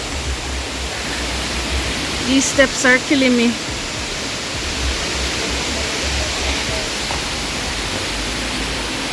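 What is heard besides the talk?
waterfall at Dunn's River Falls, Jamaica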